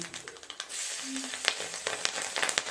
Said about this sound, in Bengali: এই মাছ ভাজার তেলেই দিয়ে দেবো কালো জিরে আর কাঁচা লঙ্কা ফোড়ন